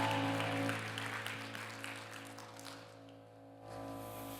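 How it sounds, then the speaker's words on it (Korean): Congregation applause during a Korean church worship service: a steady, moderately loud wash of clapping over sustained organ-like musical tones. It thins out toward the end before the music swells again. "우리 하나님께 영광의 박수를 올려드리겠습니다."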